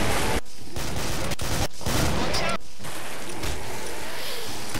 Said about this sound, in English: that's a grenade launcher he's using